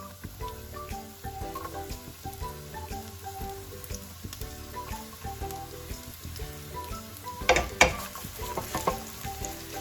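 Onions fry in hot oil in a pan with a soft, steady sizzle and crackle, plus scattered clinks and scrapes of stirring that grow louder near the end. There is no talking.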